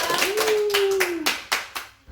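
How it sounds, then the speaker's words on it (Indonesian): A small group claps hands in a brief burst during an Indonesian health-education session, with a few scattered sharp claps trailing off at the end. "Kasih tepuk tangannya dong."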